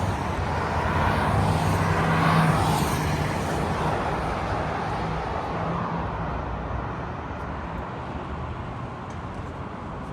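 Renault Duster cars sweep past on an F1 circuit, a steady broad engine and tyre roar that swells around the second or third second and then eases off, with no talk over it.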